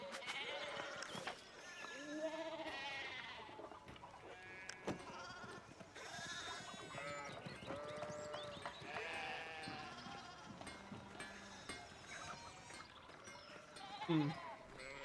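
Sheep bleating in the video game Pentiment, several wavering bleats recurring across the scene under game music and ambience, with a person talking intermittently.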